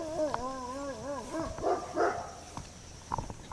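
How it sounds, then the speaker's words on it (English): Dogs bark and whimper from off to the side of a roadside walk, a few short yips and whines rising and falling over a second or so, then scattered quieter barks, fairly faint against outdoor background. "Dogs."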